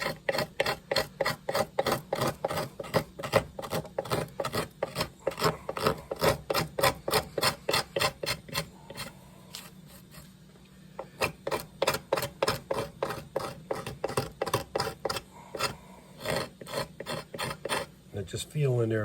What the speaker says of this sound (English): so I'm just gonna cross with the hook knife, kind of clean the lines up a little bit.